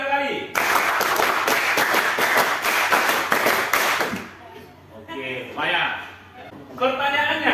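A classroom of students claps in a rapid patterned rhythm, about five quick claps then three, loud and close for several seconds, followed by a teacher talking.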